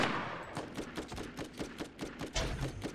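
Rapid bursts of gunfire from the video game Borderlands, including sniper and shotgun shots, crack out in a dense, repeating series of sharp reports over about three seconds with no talking.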